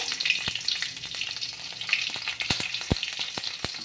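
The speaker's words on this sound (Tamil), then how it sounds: "க்ரீன் சில்லி வந்து நல்லா பட்ட பட்ட பட்டான்னு பொரியுது" A single green chilli crackling in hot oil with mustard and cumin seeds, a steady sizzle broken by sharp, loud pops at irregular intervals, with no talking.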